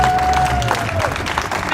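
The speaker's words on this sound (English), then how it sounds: "I want everybody to give a huge round of applause" A crowd applauds the mural artist Eloy Torres at the restoration of his Anthony Quinn 'Pope of Broadway' mural in Los Angeles, a dense roar of clapping with some crowd noise.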